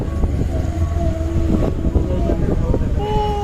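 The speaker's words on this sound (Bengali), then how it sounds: "এই দেখো ট্রেন, এই দেখো নতুন ট্রেন আমাদের" A new express train rolls past close by with a loud, continuous rumble and rattle of wagons on the rails, while voices talk over it.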